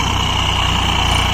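A tractor engine fitted with a turbo whistle idles loudly and steadily with a low throbbing rumble and a sustained high whistle on top, close and continuous.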